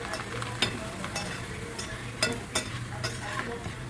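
Poha (flattened rice) fries in hot oil for a homemade mixture snack, a steady sizzle and bubble broken by a few sharp clinks of a utensil.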